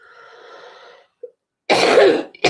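A short, faint sound, then two harsh, loud coughs close by, the second cut short, with quiet humming before them.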